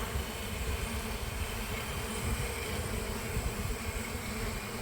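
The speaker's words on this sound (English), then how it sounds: "All the bees coming back from foraging since I set it up." Honeybees returning from foraging to a hive rescued from a large oak tree, a dense continuous buzzing hum with steady loudness throughout, close and alone.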